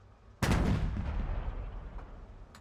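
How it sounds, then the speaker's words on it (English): A tank's main gun firing at a tower in a video game, a single sudden loud boom followed by a long rumbling decay and a faint trailing click. "I'm going to do 2 shots with the main gun here at that tower"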